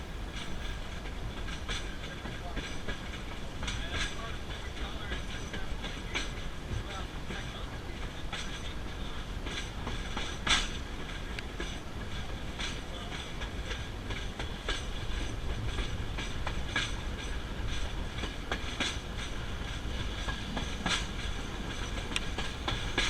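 Rumbling ride aboard Railroad Business Car 100 on the Heber Valley line, a steady broadband roar of rolling wheels with recurring clickety-clack joints and faint squeals, continuous and close throughout.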